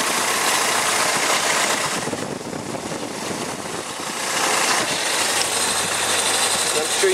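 Toyota 22R-E engine idling in a 1984 Celica GT, heard up close as a steady mid-pitched running drone with a slight dip in level midway, while a voice talks over it.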